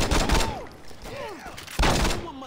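Gunfire in the video game Saints Row 2: loud bursts of shots open the clip and return near the end, mixed with game voices and sound effects between them.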